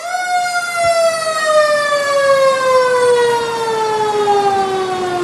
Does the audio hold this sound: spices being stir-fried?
no